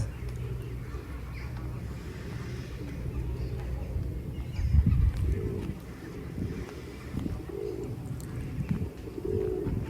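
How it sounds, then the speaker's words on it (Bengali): Pigeons coo beside the River Thames among ducks: repeated low, throaty coos rise and fall close by over a murmuring outdoor background with occasional faint voices. "হাঁসগুলা তারপর কবুতরগুলা কত সুন্দর লাগছে হ্যাঁ? খাবার খাচ্ছে"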